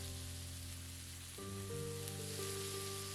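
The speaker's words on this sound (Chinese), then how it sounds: "然后加入腌好的牛肉，这些牛肉我们需要分2次来炒。 把牛肉平铺在锅底" Marinated beef slices for Korean bulgogi sizzle steadily on a hot electric griddle, a dense continuous hiss with some tonal background hum throughout.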